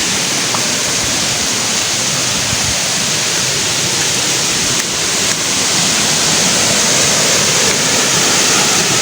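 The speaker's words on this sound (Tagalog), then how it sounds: "yung daanan pinapasok na ng tubig" Floodwater from a swollen river rushes across a flooded footpath in a loud, continuous roaring wash, with nobody speaking.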